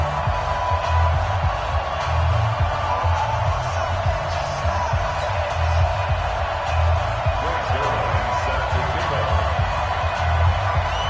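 A dense, steady roar from the stadium crowd in an EA Sports NFL football video game, with the Houston Texans facing the New England Patriots. The loud cheering continues throughout under a commentator's talk.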